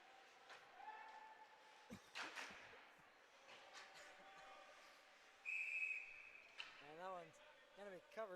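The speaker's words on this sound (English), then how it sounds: "Covered up for a whistle." A referee's whistle at a college ice hockey game, JMU at West Virginia, gives one sharp, sustained blast midway through, over steady arena crowd murmur, puck thuds and board knocks.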